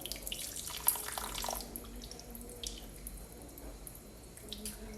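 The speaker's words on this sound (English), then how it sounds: "now we need to wet our hands from the wrist area down to the fingers, pointing towards the bottom of the sink" Tap water runs steadily from a faucet over wet hands into a sink during handwashing, a soft continuous splashing stream with a few brighter spatters near the start and no talking.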